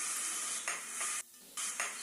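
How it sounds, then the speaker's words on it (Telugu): Dried prawns, green chilli and onions sizzle loudly in hot oil in a pot, the steady frying hiss broken by a short pause as the mix is stirred, with no talking. "గిన్నెలో ఆయిల్ పోసుకొని ఆయిల్ హీట్ అయిన తర్వాత చూసారండి ఎండు రొయ్యలు, పచ్చిమిర్చి, ఆనియన్స్ వేసుకున్నానండి."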